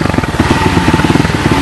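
A pit bike engine on a test ride, loud and close, chugging in a rapid uneven rhythm of low pulses with a rough mechanical rattle throughout.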